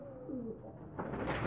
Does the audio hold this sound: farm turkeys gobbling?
no